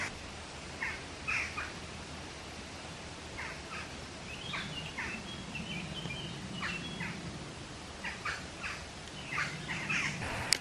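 A crow calls outdoors in a string of short, harsh caws scattered through the clip, faint to moderate in loudness over a constant background hiss, with no voices present.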